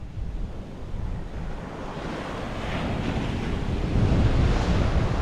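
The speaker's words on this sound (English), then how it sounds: "So this is Igboshore beach. You can see Igboshore beach in Ogun State." Ocean surf rolls onto Igboshore beach in Ogun State, Nigeria, a broad continuous roar of breaking waves mixed with wind buffeting the microphone, swelling louder toward the end, with no voices.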